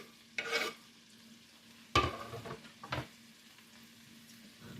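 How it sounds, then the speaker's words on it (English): Bread rolls dropped into melted fat in a frying pan give a few short, soft bursts of sizzling and clatter, separated by near silence in a quiet kitchen. "Once it's melted, I add my rolls to it."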